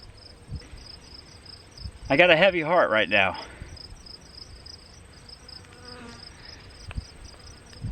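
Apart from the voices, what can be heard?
crickets chirping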